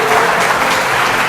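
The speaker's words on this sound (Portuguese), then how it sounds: "aplauda ao Senhor, irmãos" A church congregation claps during a worship service, a dense burst of applause heard alone and at full strength.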